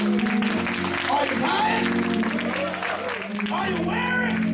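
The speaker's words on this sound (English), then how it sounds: "Let's clap our hands" Congregation clapping hands during a church harvest revival service, a steady clatter of applause under organ-like sustained music and a voice speaking over it.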